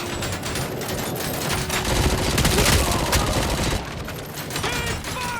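Gunfire in RoboCop: Rogue City, a sustained loud fusillade of rapid automatic shots and overlapping bursts that continues throughout.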